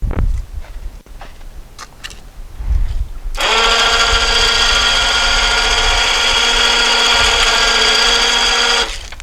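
A home-made backhoe mover machine starts up with a sudden steady mechanical drone and whine that runs loud and unbroken for several seconds, after quieter rumbling.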